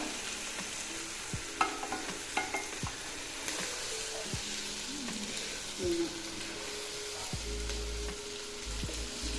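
Chicken and masala being slowly stirred in a frying pan for Palakkad-style biryani, a steady low sizzle under repeated scraping knocks of a spoon against the pan, close and fairly quiet, with no talking.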